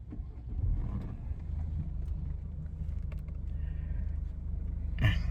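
A Mercedes-Benz E220d diesel sedan starts and settles into a low, steady idle rumble, heard muffled from inside the cabin with a faint click near the end.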